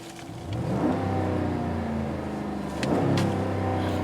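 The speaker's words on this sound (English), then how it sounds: "We'll go ahead and rev the engine up from the inside a little bit." The Hemi engine of a 2012 RAM 1500 Lone Star Edition 4x4 pickup, heard from inside the cab, revs up in two steady rising pushes with a muffled, deep mechanical hum between them.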